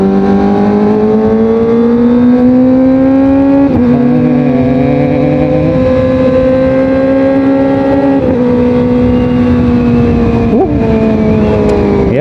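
A Kawasaki ZX25R motorcycle engine revving hard while riding, a loud continuous high-pitched whine that dips and climbs again at a few gear changes, with no speech.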